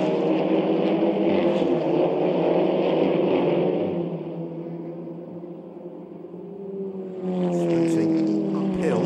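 SEAT León Eurocup race cars at the Nürburgring pass in a close train, engines roaring loud and steady, fading briefly mid-clip before another car surges near with rising engine note; no talk heard.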